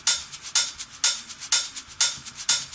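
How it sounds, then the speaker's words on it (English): A deep house drum loop of shaker and offbeat ride gives a steady, bright, hissy pulse, each ride hit ringing out on the offbeat between quicker shaker ticks, close and unaccompanied. "I have this little drum loop that I made with a shaker and offbeat ride"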